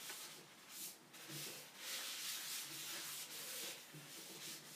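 A clean tissue rubs finish into the rim of a 12-inch turned wooden fruit bowl, making a soft, steady, faint rubbing hiss that swells and eases in long strokes.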